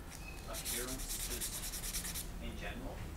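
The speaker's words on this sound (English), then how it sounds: "Just need a bit of sand here." A part from a Hasegawa Lancia Stratos HF Stradale model kit is sanded by hand, a steady close rasping rub of quick back-and-forth strokes that continues with little pause.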